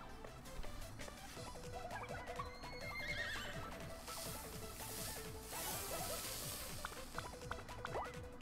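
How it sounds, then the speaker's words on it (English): A horse in the Miitopia video game neighs and whinnies over steady clip-clop hoofbeats, backed by a busy game soundtrack with repeating melodic notes throughout. "Horse."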